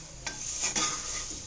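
Poha is stirred as it fries in a pan, heard as a short, soft sizzle with a couple of quick scraping strokes of the spoon close by.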